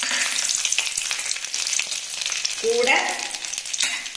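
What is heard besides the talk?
sautéing shallots, onion, tomato and garlic in a pan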